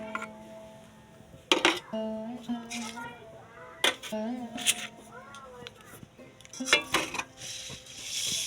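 A pan of fried fish is lifted off a gas stove with several metallic clanks and clinks of cookware, close and fairly loud, while a voice talks over the handling.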